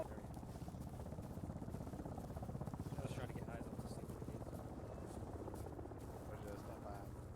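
A helicopter in the military video game ArmA 3 flies close by with a loud, steady rotor and engine rumble throughout, with voices talking over it.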